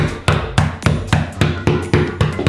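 Back of a metal spoon whacks cookies sealed in a plastic baggie, about ten sharp, evenly spaced thuds, loud and close, with no talk.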